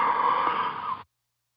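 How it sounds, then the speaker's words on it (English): A single slow, breathy yawn during a guided mindfulness exercise, lasting about a second and then cutting to silence; close and fairly quiet, with no talk over it. "Let's do another mindful yawn right now."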